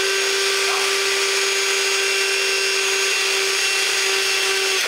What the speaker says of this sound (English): For today, I'm going to drill it.